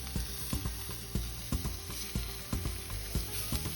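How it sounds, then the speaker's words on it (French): Onions sizzle steadily as they fry in a pan, with regular soft scraping taps from stirring roughly every half second; close and moderately quiet, with no talking. "Ah ouais, les oignons ils commencent même à confire."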